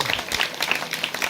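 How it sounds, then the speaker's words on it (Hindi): A church congregation claps to thank Jesus at a healing service, a dense burst of applause from many hands, loud and close. "सब ताली बजा के यीशु मसीह को धन्यवाद देंगे"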